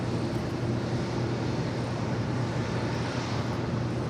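An American Airlines Boeing 787-8 Dreamliner at LAX heading to the north side, a steady, loud broadband jet roar with a low engine drone, continuous and unbroken.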